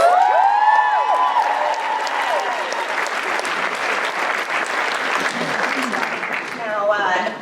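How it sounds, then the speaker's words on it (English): A Comic Con panel audience breaks into loud, sustained applause with some cheering, a full crowd clapping throughout, while a voice sounds near the start and again near the end. "Everyone give them another round of applause"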